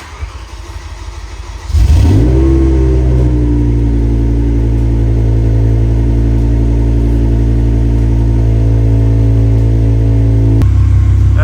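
A BMW E60 M5 V10 engine with upgraded exhaust starts with a sharp burst, climbs to a loud steady drone and holds it, then drops back to a rough idle, close and loud.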